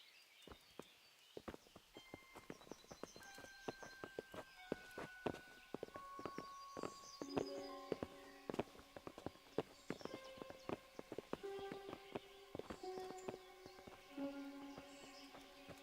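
Horses' hooves clip-clop in an uneven walking rhythm over ground in the medieval game Kingdom Come: Deliverance, with light music tones ringing behind the steady hoofbeats.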